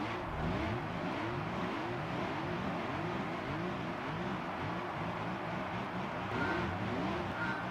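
Race car engines in Gran Turismo 3 at Super Speedway, several cars revving and climbing through the gears together in a steady, loud drone with repeated rising pitch sweeps and no talking.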